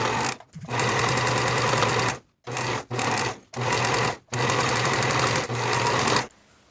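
Sewing machine stitching fabric while finishing the raw outer edges of a tee's neckline facing, running in several close, loud bursts of rapid mechanical whirring separated by short pauses.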